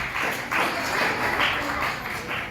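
Loud, steady applause from an audience of students and guests at an association's fifth-anniversary function, continuous broadband clapping without a break for the whole stretch.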